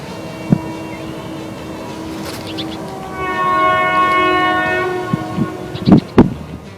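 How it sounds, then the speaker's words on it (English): Rare M3H air horn on a passing train, with a short blast followed by a long, loud sustained multi-tone chord that swells and fades, then a few brief closing blasts over rumbling rail noise. "William Aglabe asks, what is the rarest train horn you have ever heard? Probably an M3H"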